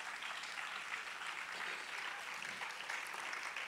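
A church congregation applauding to acclaim the Lord, a steady, even wash of many hands clapping at moderate distance, holding constant throughout.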